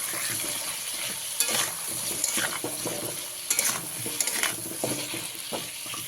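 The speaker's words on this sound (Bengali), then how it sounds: "আলুটাকে খুব ভালো করে ভেজে নিতে হবে" Potatoes with salt and turmeric fry over a medium gas flame, a constant close sizzle broken by repeated scraping stirs and light clinks of a utensil against the pan.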